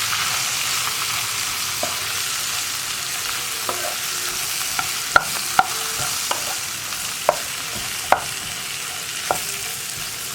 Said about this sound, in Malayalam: നന്നായിട്ടൊന്ന് ഇളക്കി മിക്സ് ചെയ്യാം.